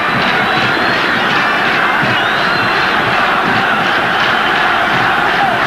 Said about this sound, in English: Crowd roar them on.